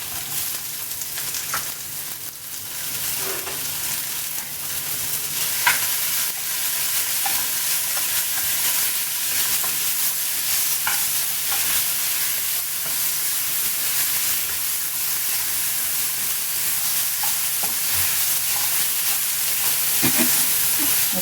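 Curry leaves fry in a pan for orange pachadi, giving a steady sizzle and hiss with occasional stirring scrapes and small pops, close by, with no voices.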